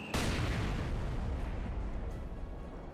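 Panzer IV tank cannon firing in the video game Company of Heroes 2, a single sharp boom with a rumbling low tail that decays over a few seconds.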